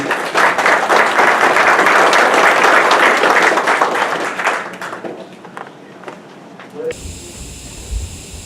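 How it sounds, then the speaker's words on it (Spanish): An audience claps loudly in a Lima venue to welcome a speaker at a Pan American Games 2019 transport event; dense sustained applause runs about four seconds, then thins into scattered claps and murmurs before a voice begins. "Lo recibimos con un fuerte aplauso"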